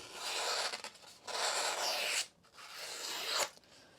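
Ozark Trail knife slicing circles through material, three loud rasping scrape strokes in a row, each a second or so long, close up with short pauses between and no talking.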